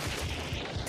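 Revolver fanning in Hunt: Showdown, a rapid burst of several booming shots fired in quick succession, dense and loud for under a second.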